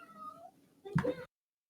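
A kid's toy gives out a short electronic cat meow, preceded by a fainter mewing tone, clear and close, then silence.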